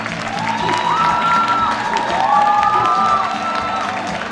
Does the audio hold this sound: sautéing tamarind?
no